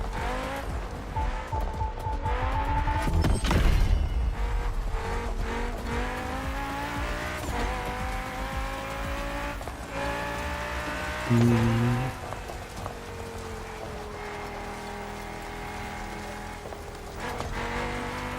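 Car engine revving and shifting while driving on dirt in The Crew Motorfest racing game, with rising and falling gear pitches, tire scrub and gravel spray throughout and a brief louder burst midway, steady and close, no talking.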